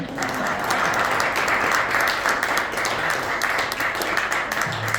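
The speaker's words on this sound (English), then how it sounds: "I'll wait for the applause to die down" Dense, sustained applause from an audience at a magic show in a golf club, many hands clapping evenly throughout at a fairly loud, even level.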